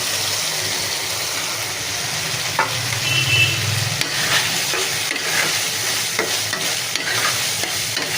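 Fried mango pieces stirred into a sizzling, well-cooked spice masala in a pan for a sour-spicy rohu fish curry, with a steady frying hiss, scraping stir strokes and a brief louder sizzle as the mango goes in.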